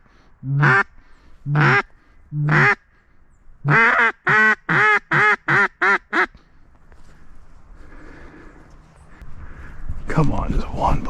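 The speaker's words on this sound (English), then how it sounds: "I thought I saw some big ducks up here on the water." Ducks quack on a river in Virginia, a close, loud run of harsh calls: three spaced quacks, then a quick burst of about seven. Quieter rustling and splashing follow, swelling near the end.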